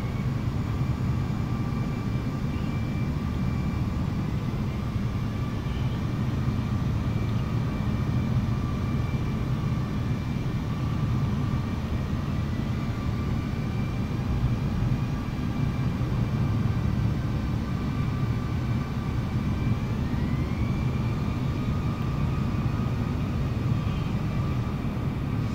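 Airplane engine in a flight simulator video game on a Birmingham to Atlanta flight, a steady, loud droning rumble with faint tonal whine that continues unbroken throughout.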